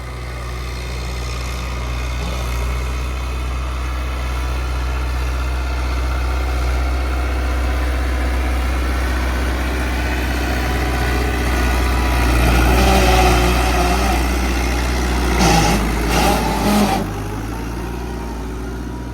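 A New Holland 850 tractor engine runs steadily at close range with a deep continuous drone, swelling into a heavier, rougher rumble in the later seconds.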